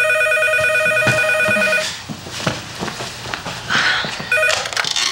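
A telephone rings indoors: a loud, close electronic trill that sounds, stops as the handset is picked up with a clunk and some handling noise, then briefly trills again.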